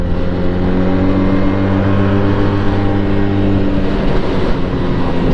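A budget 400cc cruiser motorcycle cruises along in third gear, its steady droning engine hum loud and close throughout, with a slight shift in tone near the end.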